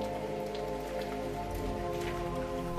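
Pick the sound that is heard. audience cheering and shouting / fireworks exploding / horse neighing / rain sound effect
rain sound effect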